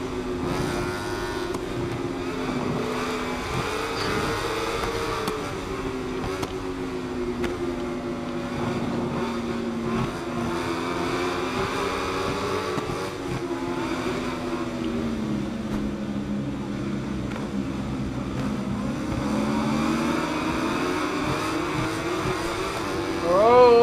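Road-race vehicles overtaking on a street circuit, with a droning roar of engines that rises and falls as they pass, heard from nearby for a long stretch and growing louder near the end.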